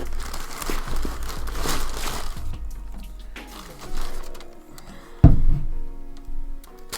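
Tissue paper crinkles and rustles steadily as a box of Nike Air Max 97 golf sneakers is unpacked up close, followed by a sharp thunk and lighter handling noises.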